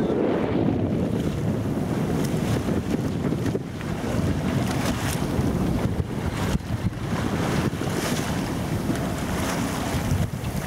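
A sailboat heeling over as it sails in strong wind off the Greek islands, with steady roaring wind buffeting the microphone over rushing water and waves, loud and continuous without a break.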